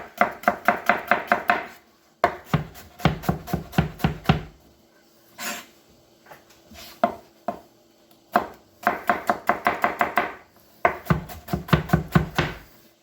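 A knife chopping celery, carrots and onions for mirepoix on a cutting board, fast rhythmic bursts of crisp taps separated by pauses and a few single knocks, close and without talk.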